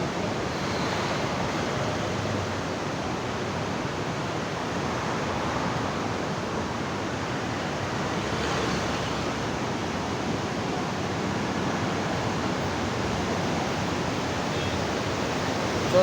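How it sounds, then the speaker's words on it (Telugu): Water rushes through the opened gates of a barrage in a steady, dense roar, broad and continuous like heavy surf, with a faint breeze over the microphone and no talking. "బ్యారేజీ కాడ లాకులు వదిలారు."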